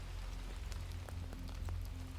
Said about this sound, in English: he would watch the rain streaming down the great window